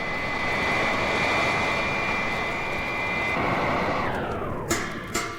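Aircraft engine roar of a plane closing in on a hovering alien spaceship, loud and steady throughout, then its pitch drops as it slows, with two sharp clanks near the end as contact is made.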